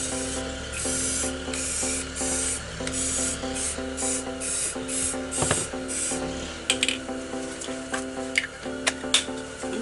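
A spray paint can sprays in repeated short hissing bursts, close and fairly loud, with steady background music under it.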